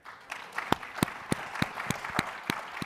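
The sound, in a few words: audience applause for the SaaStr team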